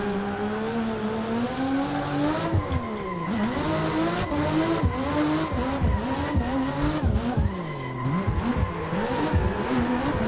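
A race car in a racing game launches hard, its engine revving and shifting through rising and falling pitches while its tires screech and squeal continuously, loud and close throughout.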